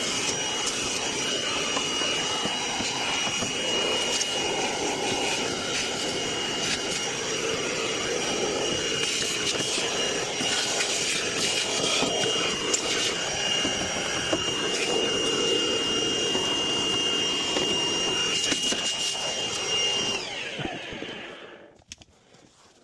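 A vacuum running steadily during a furnace tune-up, a constant loud whine with brushing and scraping textures, continuing without pause until it switches off and winds down at the end.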